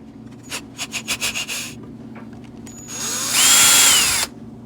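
A power drill fitted with a T20 Torx bit works a screw on a Kenmore 500 washer: a few short bursts of whirring, then a longer, louder sustained run of the motor under load, close up and with no talk.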